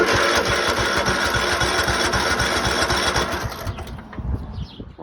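A Craftsman lawn tractor engine runs close and loud with a steady, fast chugging beat, then falters and sputters toward the end as it dies down, no speech.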